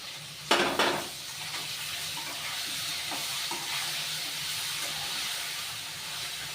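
Potatoes fried red-brown sizzle steadily in a pan as chopped ginger goes in, opening with a sharp clatter of utensil and a burst of hiss, then an even, close frying crackle with light stirring scrapes.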